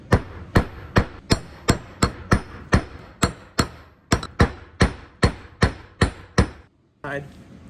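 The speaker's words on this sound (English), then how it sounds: "I'm gonna take my hammer." Steady, sharp hammer strikes on a metal cable stop at the end of a spark rope, about fifteen evenly spaced blows in quick succession, loud and close, then a brief pause and a softer rustle.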